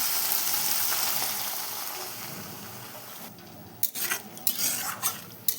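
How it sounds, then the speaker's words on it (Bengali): Coconut milk is poured into a simmering prawn masala, a steady wet rush giving way to a few clinking stirs of a utensil in the pan, close and fairly loud. "এবার আমি নারকেলের দুধটা দিয়ে দেবো দেখো"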